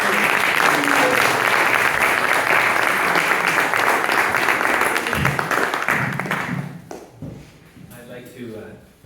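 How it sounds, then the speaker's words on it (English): A conference crowd at the MAN-tra 2023 event claps for Gopal Hari Das, loud sustained applause for about six seconds that thins out and fades, followed by scattered last claps and a voice beginning to speak. "Let's give a big round of applause for Gopal."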